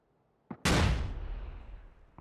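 A frag grenade detonates in the PUBG battle royale game, a single loud, close blast that rolls off into a long fading rumble, preceded by a faint short pop.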